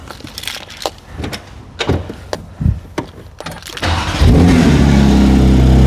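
A sports car engine in a video game cranks and catches, then settles into a loud, steady rumbling idle after a few scattered clicks and knocks.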